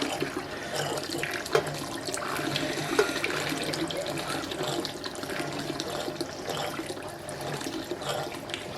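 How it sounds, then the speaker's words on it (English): BrewZilla Gen4 brewing system's pump pushes clean water through for a rinse, giving a continuous splashing, gushing flow at moderate volume with a few small knocks, steady throughout. "Just pump a bit of clean water again through that pump. Give it a rinse."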